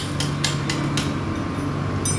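Sharp metallic clicks ring out in quick irregular succession as a bolt is tightened on a motorcycle magneto in a workshop, close and crisp over a low steady background hum.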